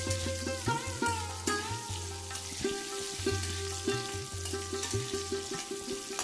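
Potato pieces frying in hot oil in a pan for a vegetarian okra and potato curry, a steady sizzle throughout with repeated stirring and scraping strokes from a spoon, close and fairly loud.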